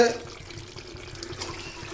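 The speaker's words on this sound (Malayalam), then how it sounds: "വെള്ളം ഒഴിച്ച് കൊടുക്കുകയാണ്" Water pours and splashes steadily into a pot for Arabian chicken madhooth for a couple of seconds, a continuous close-up trickling with a faint voice murmuring underneath.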